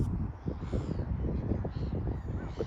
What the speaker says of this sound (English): You hear all the seagulls.